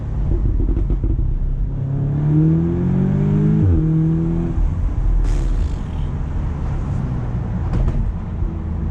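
An Audi S3 Convertible engine accelerates hard on a test drive, its tone climbing through a gear, briefly dropping at the shift and rising again, loud and close with no talking.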